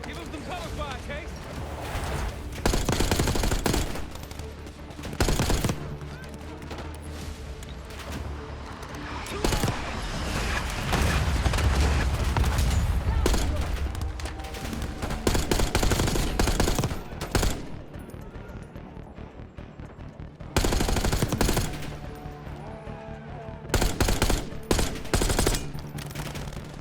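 Bursts of automatic gunfire erupt repeatedly as cover fire in Call of Duty Black Ops 6, loud rattling volleys separated by brief quieter gaps, while voices talk over the combat and other battle sounds.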